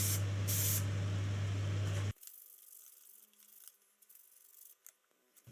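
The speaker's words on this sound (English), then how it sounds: "I spray painted it and smoothened it." A spray can hisses loudly and steadily for about two seconds while paint goes onto a casting pattern. Quieter rubbing and handling noises follow, with no voices.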